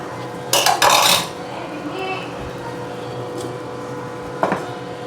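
Pot lid set onto a pot of simmering prawn curry with tender tamarind leaves, giving a sharp metallic clatter near the start and a second brief clink later, close by against a low kitchen background.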